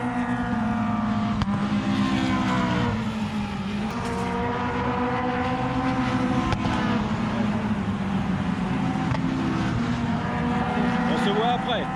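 Racing cars lap the Nogaro circuit with a continuous loud engine drone that rises and falls as they pass. A voice talks over the roar.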